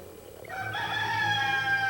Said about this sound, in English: What is the rooster going to do? He's going to wake them up.